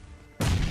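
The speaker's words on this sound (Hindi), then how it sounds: "ये मैंने ग्रेनेड फेंका, एक ग्रेनेड मेरे पे भी आया" A grenade explosion in the BGMI battle royale game hits as a sudden loud broadband blast about midway through, holding at full strength after a quiet, low-level game ambience.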